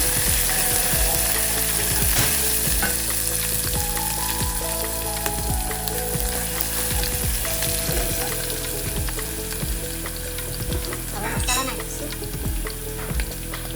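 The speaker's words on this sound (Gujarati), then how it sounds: "હવે આમાં લસણ અને મરચાંની પેસ્ટ નાખીશું. સાતળી લઈશું." Garlic and chili paste sautéing in hot oil with cumin, a steady close sizzle and fry with repeated scraping and stirring strokes in the pan, continuing throughout.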